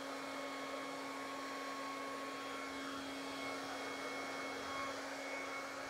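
A hair dryer on its cool setting blows steadily across poured paint for a Dutch pour, a continuous even whoosh with a fixed motor whine running unbroken and close throughout.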